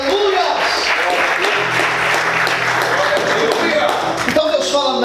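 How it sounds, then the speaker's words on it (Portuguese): A church congregation applauds loudly during a sermon, a dense roar of clapping with a sustained low tone beneath and a voice calling out over it. "Aplauda o Senhor mais forte."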